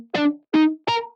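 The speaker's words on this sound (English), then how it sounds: "I just linked the velocity to a low pass filter so that low velocity notes sounded like this" Three soft, muted synth guitar lead notes played at low velocity through a low pass filter, each a short rounded tone with a dull, darkened top, evenly spaced and clean.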